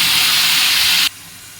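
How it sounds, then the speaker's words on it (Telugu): Onion and tomato paste sizzles in hot oil in a pan, a steady loud hiss for about a second before cutting off abruptly to near silence. "ఇది బాగా వేగనివ్వాలండి. బాగా వేయించుకోవాలి, లేకపోతే పచ్చి వాసన వస్తుంది."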